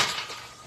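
A brief, dry crunch from biting into a crispy tostada topped with Mexican chicken salad, one quiet crackling burst that fades fast, with no talking.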